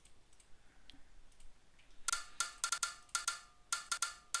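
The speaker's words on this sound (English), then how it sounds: "Keyboard." Keyboard keys clatter in quick clustered bursts of sharp clicks during a Hellish Quart tournament stream, faint at first and then louder and rapid.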